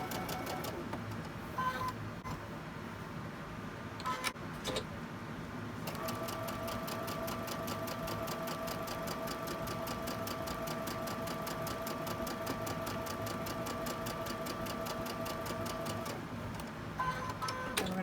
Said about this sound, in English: We're sewing each side of the middle.